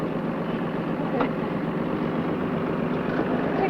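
A tractor engine idles on a farm, a steady low rumble that holds evenly from start to finish at moderate loudness.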